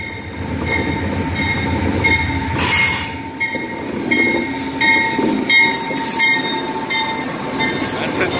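An Amtrak California Zephyr train in the Oakland rail yard rumbles steadily nearby, with wheel squeal and metallic clatter rising and falling throughout, loud and continuous with no voices.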